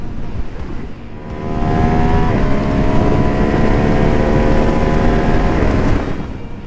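A 2026 Ducati Monster V2 motorcycle engine drones loudly while riding, climbing in pitch as it revs under steady wind rush, with no talking.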